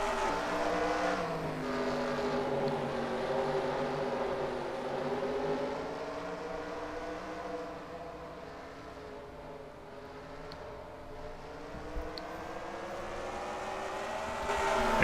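Pack of ARCA stock cars racing at South Boston, Virginia in a sim racing game, a sustained engine drone with rising and falling revs as the cars run together, steady and moderately loud.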